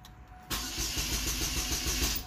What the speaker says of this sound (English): time to start the car. The car should die out.